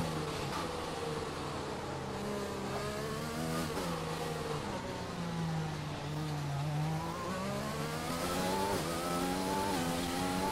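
Formula 1 race car in the F1 2020 video game accelerating around the French track during qualifying, engine whine rising and falling through gear changes, loud and continuous from start to finish.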